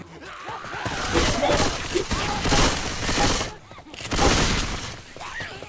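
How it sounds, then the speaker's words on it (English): Sustained machine gun fire in the zombie shooter Left 4 Dead 2, loud rapid continuous bursts with short pauses, mixed with other game noise and voices talking. "A machine gun."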